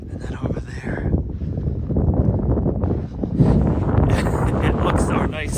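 Cold wind blows gustily outdoors in snowy woods, roaring against the microphone in a continuous loud rush while a person talks over it.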